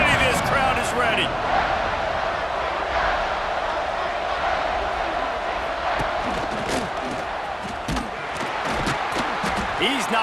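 Dense, roaring stadium crowd noise at a college football game in EA Sports College Football 26, sustained and loud throughout with scattered shouts and a commentator talking over it.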